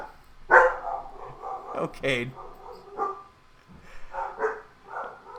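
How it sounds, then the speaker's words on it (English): A dog barks outside during a tabletop role-playing session, several short yips and barks mixed in with people talking over them. "There's a dog out there."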